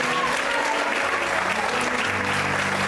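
A church congregation applauds steadily during a Portuguese-language sermon, a thick, continuous wash of many hands clapping that holds evenly throughout with no speech over it.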